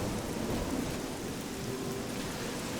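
Video game thunderstorm with dense, continuous heavy rain and a low thunder rumble, loud and unbroken throughout, no voices.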